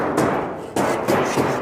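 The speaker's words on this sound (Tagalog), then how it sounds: "Oo, martilyo para makapagpako." A hammer drives nails while a room is being built, four dull, fairly evenly spaced blows over a close, noisy background.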